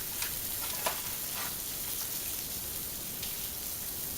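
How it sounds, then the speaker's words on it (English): Eggs frying on an electric griddle, a steady crackling sizzle with scattered small pops, close and even throughout, without any talking. "look how nice those eggs are sizzling"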